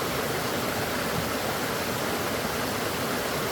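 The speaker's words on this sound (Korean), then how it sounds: "계곡 물소리가 참 시원합니다" Water rushing down a mountain valley stream, a dense, steady roar of flowing water that stays loud and close without a break.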